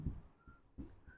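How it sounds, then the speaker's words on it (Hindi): Chalk or marker writing on a board during a lecture, heard as a few short scratchy strokes in quick bursts, close and moderately loud, with no talk over them. "तो वो अपन लिखते हैं"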